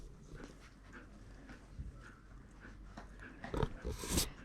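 Puppies whimper and pant while biting, with soft whines and snuffles close by and a louder burst of yelps near the end.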